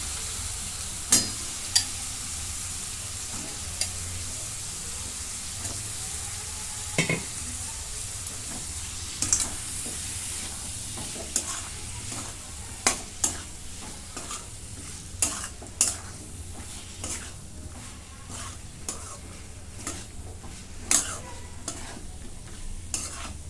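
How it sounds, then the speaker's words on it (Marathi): Brinjal (eggplant) pieces sautéing with masala in a pan, a soft continuous sizzle broken by regular scraping clicks of a spatule stirring, moderately quiet with no talking. "आता हे पुन्हा परतून घेते तर मसाला चांगला परतून झालेला आहे वांगे टाकून घेते"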